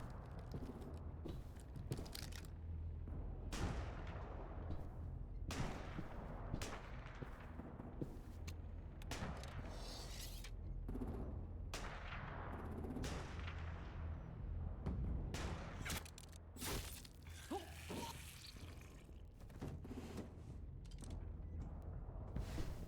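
Gunfire in The Walking Dead: Telltale Season 4, where an enemy carries an assault rifle: a dense, steady run of sharp shots and rumbling impacts fills the whole stretch at moderate loudness, with no talking.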